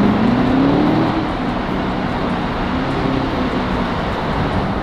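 A C7 Corvette cruising through a tunnel with its windows down gives off a steady, loud roar of engine and road noise, with a low engine tone climbing gently in pitch during the first second.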